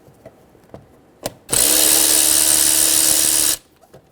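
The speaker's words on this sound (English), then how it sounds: "Using a 10mm socket, loosen the clamps on the airbox." A power tool with a 10mm socket loosens the airbox clamps on a 2011-2014 Hyundai Sonata: a few faint clicks, then one loud, steady whirring burst lasting about two seconds that stops abruptly.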